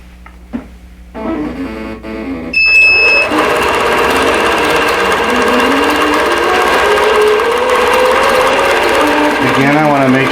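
An embroidery sewing machine starts up and stitches out a winter table runner design with yarn, a steady loud mechanical whir with a rapid needle rhythm running continuously after a few quieter clicks and handling sounds at the start.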